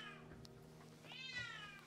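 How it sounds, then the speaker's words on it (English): A cat carrying a toy around lets out a couple of drawn-out meows, heard faint and somewhat distant over a low background hum. "That was the cat going crazy, carrying a toy around and just yelling her head off."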